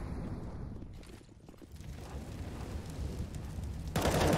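Rapid automatic M4 rifle fire in a Counter-Strike: Global Offensive esports match, dense crackling bursts under busy game noise, growing louder and harsher in the final half second.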